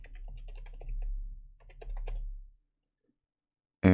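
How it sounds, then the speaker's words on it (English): Quick clattering keystrokes on a computer keyboard while a code comment is typed, in two bursts of steady tapping with a low hum beneath, then a pause of silence before a brief loud sound at the end. "Now let's type in here a comment."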